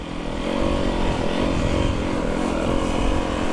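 Two-stroke snowbike engines drone steadily and loudly nearby, with several machines blending into a continuous buzzing roar.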